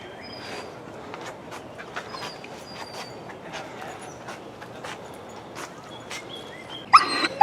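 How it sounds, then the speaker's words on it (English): A dog on a farm barks excitedly at squirrels near a chicken coop, sharp repeated barks scattered across the clip at moderate distance, ending with a few louder, closer yelps. "Got a crazed dog that saw a pair of squirrels run across the grass a moment ago, or across the yard."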